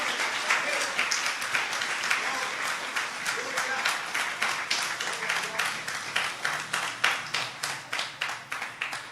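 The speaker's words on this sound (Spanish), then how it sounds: "Dale otro aplauso al Señor" A church congregation applauds the Lord, a steady wash of many hands clapping that turns into rhythmic unison claps toward the end, with faint voices underneath.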